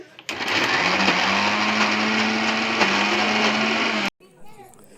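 A mixer grinder whirs as it grinds tamarind chutney with green chilies, raw onion and salt. The loud, steady motor drone runs for about four seconds, then cuts off abruptly and a voice follows briefly.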